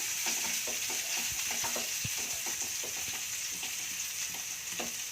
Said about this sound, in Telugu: ఇప్పుడు అంతా ఒకసారి ఇట్లా తిప్పుతాము